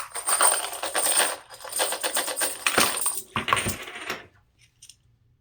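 Half-ounce American Gold Eagle gold coins clink and jingle repeatedly as they are counted and dropped onto a pile, a busy close-up clatter that tapers off into quiet with a few final taps.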